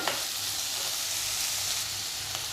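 Boiled potatoes and peanuts sauté in a pan for a fasting bhaji, giving a steady, close, even sizzle that holds without a break.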